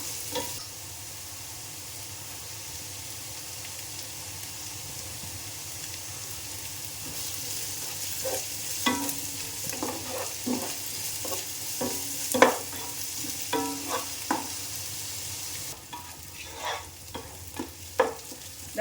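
Chopped onion with crushed ginger, garlic and green chili sizzles steadily in a pan for beef biryani. Later, a spoon scrapes and stirs in irregular clattering bursts, close and fairly quiet, with no voices.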